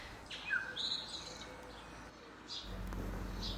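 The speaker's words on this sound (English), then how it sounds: "Elena, Jesus, just a bird." Outdoors in a garden, a bird gives a few short chirping calls, faint against a quiet background, followed by a low rumble near the end.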